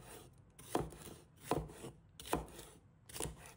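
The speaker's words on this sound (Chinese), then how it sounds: "而梗则切成小块，但不要切得太小，因为它们是用来煮汤的" A knife chops mustard green stems into chunks on a cutting board, four evenly spaced thuds with a slight crunch, close and quiet with no voices.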